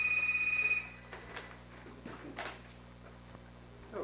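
A telephone rings with a steady electronic tone for just under a second near the start, then stops, leaving faint room noise and a few soft knocks and shuffles.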